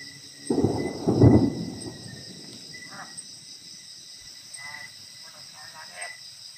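Thunder rumbles in a brief low burst with a second roll soon after, set against a steady chorus of crickets and insects at night. The insect buzz carries on after the thunder fades, with no talk.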